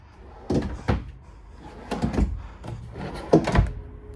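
Deep bottom kitchen drawer on ball-bearing guides in a 2024 Forest River Vibe 34BH travel trailer, sliding open and shut in several close rolling pulls with soft thuds at the ends.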